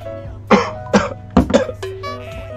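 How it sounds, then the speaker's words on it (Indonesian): A person coughs close to the microphone in four quick dry bursts, the last two nearly back to back, with a faint throat-clearing sound after them over a quiet background hum. "Batuk sampean."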